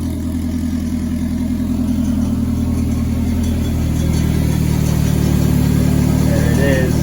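Turbocharged Honda Civic converted with an all-wheel-drive kit launching on a drag strip pass, loud engine roar building and sustaining near the microphone, with excited voices talking over it.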